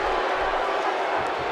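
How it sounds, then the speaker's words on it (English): A wrestling arena crowd in the video game WWE 2K16 gives a continuous loud roar of cheering throughout the short stretch, with a faint thump near the end. "This is an electric crowd here tonight, and we're hearing from them every time these competitors make a move."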